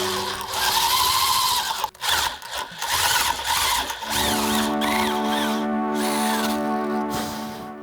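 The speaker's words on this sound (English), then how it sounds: "I'll have to drill down a little bit before I rock it." A power drill bores a hole during a prop build, whining with a strong motor tone that stops briefly, restarts, then settles into a steady humming pitch.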